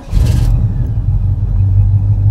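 A 1970 Pontiac GTO cranks over with a short whirring starter burst and then catches into a loud, deep, steady rumbling idle heard up close, with no talk over it.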